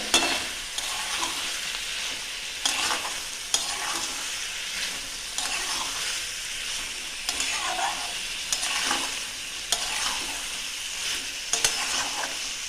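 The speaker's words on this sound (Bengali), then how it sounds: "হলুদ দিয়ে একটু কষবো" Minced chicken keema stir-fried with turmeric in a pan, a continuous soft sizzle broken by periodic scraping and clacking strokes of a spatula, close and moderately loud with no talk.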